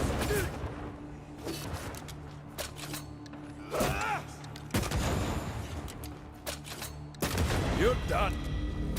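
Gunfire from guns in the game Banishers: Ghosts of New Eden on very hard mode, several sharp shots spaced across the clip with echoing tails. Someone talks briefly between the shots.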